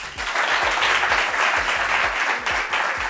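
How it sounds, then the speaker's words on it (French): An audience applauds for a man named Yacouba at a gathering, a full, loud burst of many hands clapping, close and sustained for the whole stretch, with a low rhythmic thumping underneath and no clear speech. "Applaudissez pour le Yacouba, s'il vous plaît."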